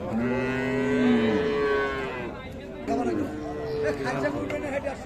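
Several cows, including Friesian cows, moo loudly and close by at the Raniganj cattle market in Dinajpur, long drawn-out lowing over a busy background of market chatter and people talking.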